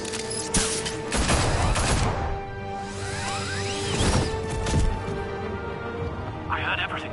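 Gunfire in a Batman Telltale video game scene at a mayoral debate: loud bursts of shots and crashes with whooshes, under shouting voices and a sustained musical drone.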